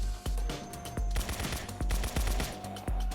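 Rapid gunfire in a Roblox zombie game rattles in loud bursts, sharp repeated shots firing nearly continuously with brief pauses between volleys.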